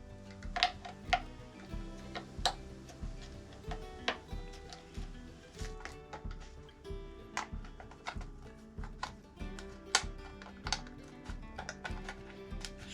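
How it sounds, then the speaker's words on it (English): Straight cutting snips chop through material in a steady series of crisp clicks and snaps, about one every second, close and fairly quiet with no voices. "So it's cutting nice. These are straight cutting snips."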